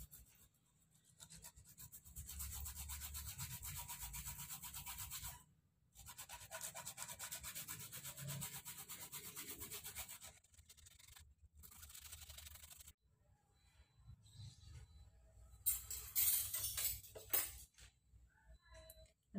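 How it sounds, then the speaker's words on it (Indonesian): Fresh aloe vera is rubbed against a grater in close, soft rasping strokes that come in several bursts separated by short silences. "ini lidah buaya yang sudah diparut"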